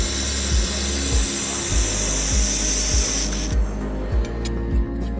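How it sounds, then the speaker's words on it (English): A handheld air-cooled laser welding machine runs on 1 mm thin aluminum with a steady loud hiss and a pulsing machine drone, the broad hiss cutting out partway through while the rhythmic hum continues. "Let's test how powerful our air-cooled welding machine really is."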